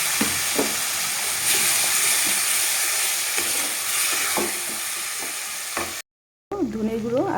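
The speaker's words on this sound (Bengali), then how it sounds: "তো ভালোভাবে আমি মশলাটাকে কষিয়ে নেব" Spices with tomato and chili paste, coriander and cumin powder sizzle loudly in a pan with repeated stirring scrapes, then a short silence and a voice speaking.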